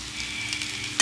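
Fried rice sprinkled with coriander leaves sizzles steadily in a pan, a close hissing fry with light stirring scrapes and a sharp clatter at the very end, no voices.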